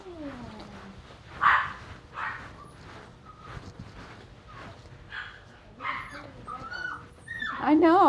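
A young poodle whimpers and yips in a dog grooming salon, several short high whines and a few sharper yelps scattered between quieter moments, a voice talking nearby.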